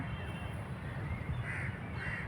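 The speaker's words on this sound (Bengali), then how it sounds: "অনেকগুলো পাখি" Birds, likely crows, call repeatedly outdoors beside a river under heavy storm clouds in Uttar Pradesh, their caws rising over a constant rushing background noise.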